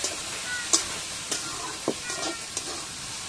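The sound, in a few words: stirring garlic paste into duck curry in a pan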